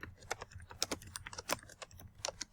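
A form title is typed on a computer keyboard in a short burst of close, light, uneven key clicks, with no talking.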